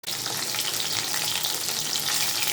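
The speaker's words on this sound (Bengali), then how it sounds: "ততক্ষণ মাছটাকে ভাজবো" Rohu fish pieces fry in hot oil with a dense, even crackling sizzle that holds steady and close for a couple of seconds, with no voices over it.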